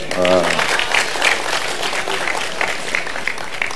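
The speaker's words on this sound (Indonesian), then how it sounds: "Tepuk tangan untuk beliau." Crowd applause at a gathering, a full, sustained clatter of many hands, with a voice talking briefly over the start.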